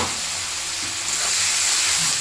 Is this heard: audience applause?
no